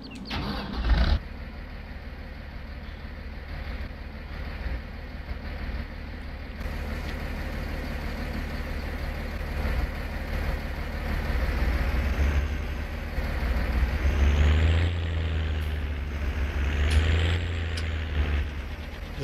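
Old tractor with side tanks in Farming Simulator 19, its engine idling and running in a deep, continuous rumble that swells louder partway through, with whining mechanical tones rising over it and no talking.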